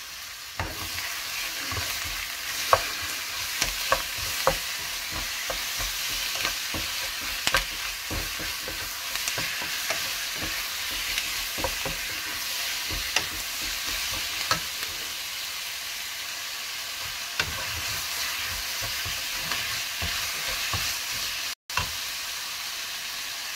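A medium chicken breast fries with garlic and onion in a pan, a steady loud sizzle broken by frequent stirring clicks and knocks of a utensil, close up and without speech.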